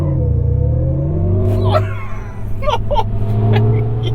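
A 2022 GMC Hummer EV pickup accelerating at full throttle gives a loud, smooth electric motor whine that rises steadily in pitch, with tire and road rumble beneath and a few brief voice sounds near the end.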